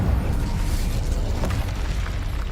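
Fiery spell blasts from Confringo and Incendio in Hogwarts Legacy, a steady loud roaring rumble of magical fire and explosions with no clear pauses, heavy and booming throughout.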